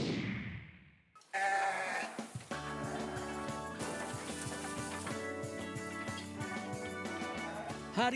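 Goats bleat repeatedly at a sacrificial goat trader's pen in Bantul, a chorus of overlapping cries after a brief quiet start, close and continuous, with some background voices.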